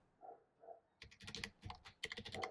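Keys clatter on a computer keyboard as a URL is typed, a quick burst of soft, close clicks after a short pause with a couple of faint taps, with no one speaking.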